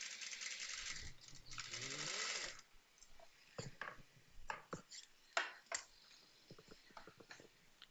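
A sewing machine hums through a short continuous run while stitching a petticoat seam, then gives way to scattered light taps and clicks, quiet and close with no one talking.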